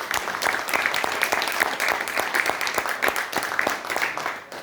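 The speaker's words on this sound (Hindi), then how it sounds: "मैं निवेदन करूंगा तालियों से स्वागत करिएगा सभी का।" A theatre audience at a Hindi stage play claps to welcome the production crew, a steady crisp patter of many hands at moderate distance, swelling briefly and then tapering off near the end.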